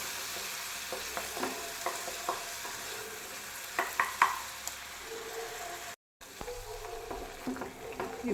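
Tomato paste sizzles and fries in hot oil for a plain gravy while a spoon stirs it through the pan, making continuous crackling with repeated scraping strokes up close and a brief cut in the sound partway.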